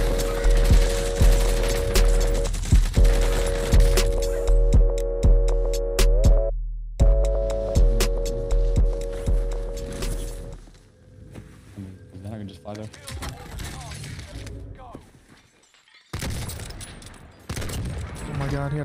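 Rapid automatic gunfire rattles in bursts during a 2v2 video game tournament, with repeated loud volleys and short pauses, while players talk excitedly over the shooting.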